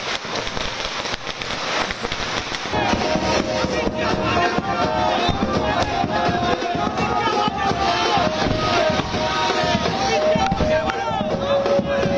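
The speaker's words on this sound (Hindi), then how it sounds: "सुनवाइए जरा कैसे आतिशबाजी हो रही है।" Dense crackling bursts of fireworks pop continuously during a Mumbai election celebration, mixed with a noisy crowd and festive clamor, steady and fairly loud throughout.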